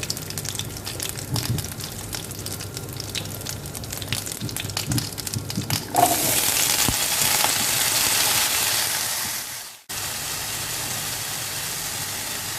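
Cut potatoes sizzle and crackle steadily in a hot pan, a loud continuous frying hiss that briefly cuts out, then resumes.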